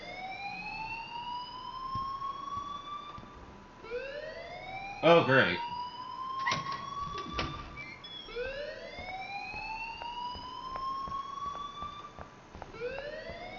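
A fire alarm blares in a school girls' bathroom in the video game Life Is Strange, its rising electronic wail repeating steadily with sharp clanks and a brief spoken remark over it.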